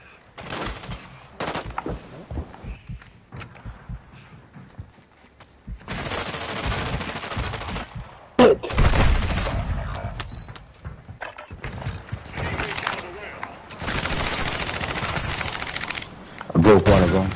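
Shotgun gunfire in a video game shooter, heavy bursts and sharp blasts mixed with rapid automatic fire and clattering mechanisms, loud and close, with stretches of quieter game noise and occasional voices.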